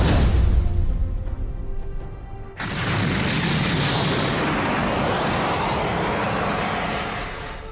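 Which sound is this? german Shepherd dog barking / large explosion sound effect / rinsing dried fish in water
large explosion sound effect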